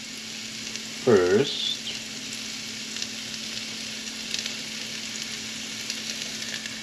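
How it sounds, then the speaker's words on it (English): Onions sautéing in a pan alongside zucchini give off a steady, moderate sizzle that runs the whole way through, with one brief spoken word near the start. "We're going to saute some onions in here"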